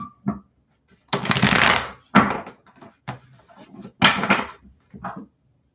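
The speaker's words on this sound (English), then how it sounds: "Okay, I need to shuffle them really well" Several bursts of tarot cards being shuffled and riffled, close and crisp, separated by short pauses and light handling taps.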